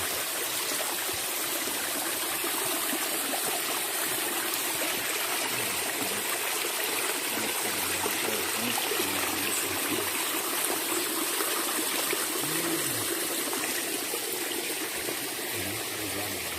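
A stream of drinkable spring water flows steadily near a hilltop town, a continuous close hiss of running water with faint low murmurs underneath, no talk.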